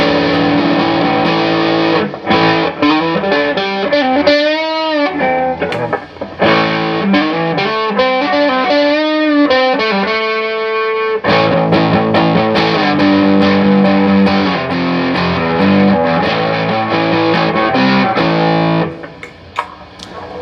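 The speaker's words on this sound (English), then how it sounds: "Tube distortion." Electric guitar, a Gibson Les Paul, played through a tube distortion pedal, loud and saturated, with sustained chords and short melodic runs, briefly pausing before ringing out again.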